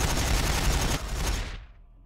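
Strafing-run gunfire in Warhammer 40000 Battlesector, a dense, loud burst of rapid automatic fire that rolls on for about a second and a half, then cuts off and fades to quiet.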